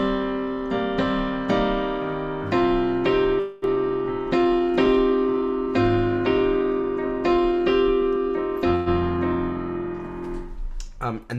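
Excerpt of a song from the Broadway musical Company, with a steady series of struck, piano-like notes carrying a gentle melody over sustained lower tones, fairly close and even, ending in a quick cluster of notes.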